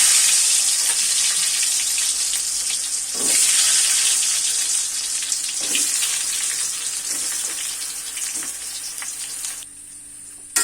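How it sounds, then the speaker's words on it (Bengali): Mango pieces coated with salt and turmeric fry in hot oil with panch phoron and bay leaves, giving a loud, dense, continuous sizzle up close with a few soft stirring knocks, easing off near the end. "এখন আমি লবণ হলুদ দিয়ে মেখে রাখা আমগুলো ছেড়ে দিব।"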